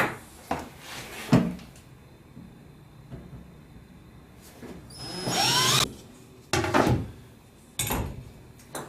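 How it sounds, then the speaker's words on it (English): A power drill bores holes in lazy Susan cabinet hardware for the rotating base, with a short whining drill burst in the middle amid knocks, clunks and handling noise from the cabinet work. "So I'm going to just drill these 4 outside holes out to take this rotating gizmo on the bottom."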